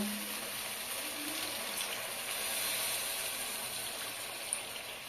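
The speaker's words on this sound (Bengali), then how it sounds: "আমি খুব সামান্য পরিমাণে জল দিয়ে দেব।" A small amount of water is poured into a pan while cooking a Bengali-style doi katla fish curry, a soft, steady trickle and gush running continuously and fairly quietly, with no talking.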